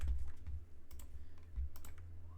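Quick bursts of typing on a computer keyboard, close and fairly quiet, with rapid clustered key clicks and brief pauses between them, no talk.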